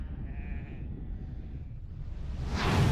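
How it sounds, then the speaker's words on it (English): Sheep bleat from a flock, with a couple of drawn-out nasal bleats at moderate distance over a low background rumble, and the sound swells louder toward the end. "The sheep are revolting."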